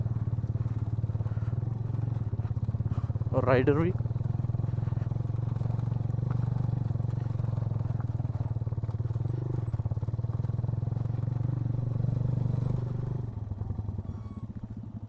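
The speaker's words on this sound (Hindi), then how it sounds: "जास का बाइक तो माशाल्लाह सही चढ़ रहा है, वो आगे आगे जा रहा है।" A motorcycle engine drones steadily and close by, climbing an off-road track in Rumli Valley. A brief rising rev cuts through early on and the engine note fades near the end. Someone speaks briefly over it.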